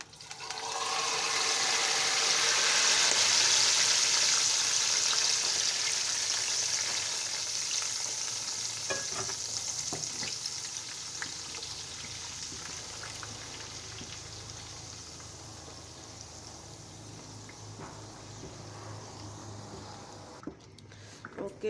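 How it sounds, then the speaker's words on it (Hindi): Loud sizzle of hot ghee tempering poured over sarson ka saag, a bright hiss that peaks early then slowly settles into a softer crackle. "अब हम इसका तड़का लगा देते हैं"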